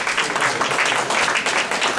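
At a business expo on a London campus, an audience claps for the students. The clapping is close, dense and steady for a couple of seconds, and no speech sits on top of it.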